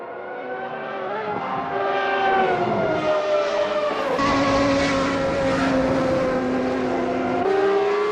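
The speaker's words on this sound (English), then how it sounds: "Riro heads to the pits in the Williams." Racing car engine on the Barcelona circuit, a Williams heading toward the pits in a race, with loud continuous engine harmonics sweeping up and down as the car shifts and accelerates, steady and close throughout.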